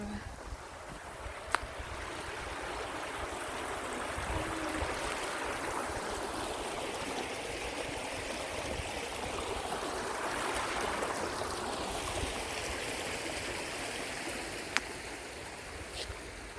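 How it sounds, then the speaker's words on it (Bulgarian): A small river stream flows in a steady, continuous rush of water that stays at an even level throughout, with faint wind buffeting and a couple of brief sharp clicks. "ще видите една рекичка"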